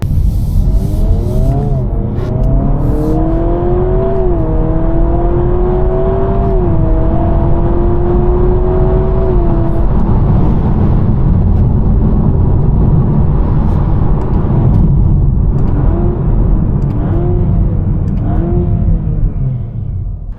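A 2026 Honda Prelude hybrid accelerates on a wet road. The engine note climbs steadily through a rev sweep, then settles and rises again over a constant loud rumble of tyres and road noise.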